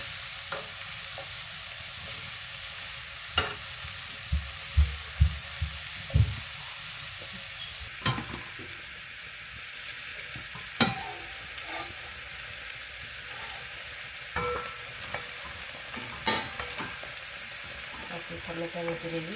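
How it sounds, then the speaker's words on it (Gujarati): A small spoon slowly stirs tomato gravy in oil for a mushroom and paneer dish, with a soft, steady sizzle under scattered light taps and scrapes of the spoon against the pan. "આવી રીતે ઓઇલમાં ધીરે ધીરે મિક્સ કરી દઈએ"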